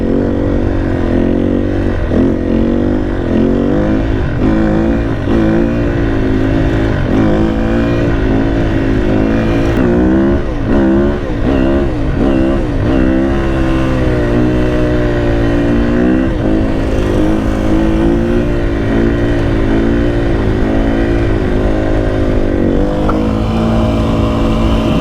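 A Sherco enduro motorcycle engine revs hard and continuously, pitch surging up and down through gear changes, loud and close for the whole stretch.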